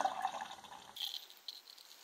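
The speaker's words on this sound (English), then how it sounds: "Let's give it an aggressive pour, shall we?" Home-brewed Coopers European Lager is poured aggressively from a bottle into a glass, a short, soft splashing gush followed by fizzing, fairly quiet and close.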